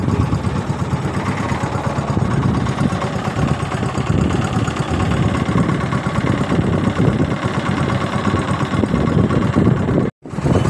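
A boat motor on a ride across Dibar Dighi lake in Naogaon runs with a loud, steady droning rumble and vibration, broken by one brief dropout near the end.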